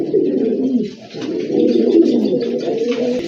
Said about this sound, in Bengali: মাশাআল্লাহ আরেক জোড়া কবুতর দেখতে পাচ্ছেন, খুবই কিউট এক জোড়া কবুতর